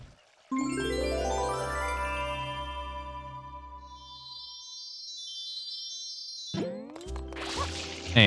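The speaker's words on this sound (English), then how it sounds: "I bonk into the sign twice for good measure" Video game character bonking into a sign, a bright springy boing that sustains and fades, followed by a second quick burst of cartoonish clanging tones.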